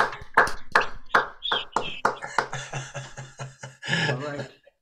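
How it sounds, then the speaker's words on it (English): Participants in an online video meeting clap over their connections, a string of sharp, separate claps in quick succession, followed by voices chattering at the end. "come off mute and let's hear some real applause for everyone that came tonight"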